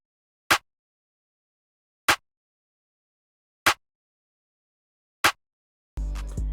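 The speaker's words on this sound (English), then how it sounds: "I use this crispy clap and this Jedi clap, which together sound like this." Layered crispy clap and Jedi clap drum samples strike four times at an even, slow pace with silence between hits, followed by a sudden deep bass-heavy tone at the end.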